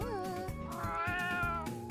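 A cat meows in the video game Raise a Floppa 2, a sustained, wavering, harmonic call lasting nearly two seconds, steady and fairly quiet.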